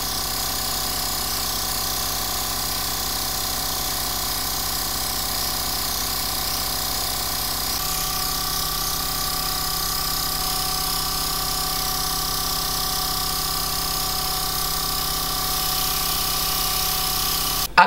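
An airbrush makeup system runs continuously, its compressor giving a steady, fairly loud mechanical hum with a faint rattling texture and no pauses.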